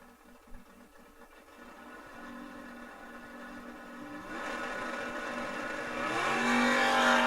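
Drag race cars, one of them a first-gen Camaro, roar down the strip at a bracket race, engine noise building from far off to a loud, dense rumble that keeps swelling.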